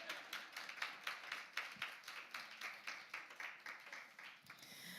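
Audience clapping at an arts and healing conference, a moderate group of hands beating in a fairly quick, even rhythm for several seconds, quiet and somewhat distant, with no talking over it.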